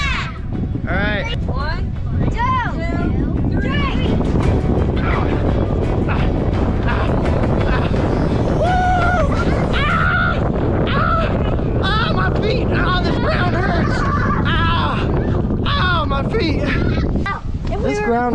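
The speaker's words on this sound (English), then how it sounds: "Can you hear me over the wind?" Strong wind buffets the microphone on an island, a loud continuous roar and rumble throughout, with children's excited voices and an adult talking and shouting over it.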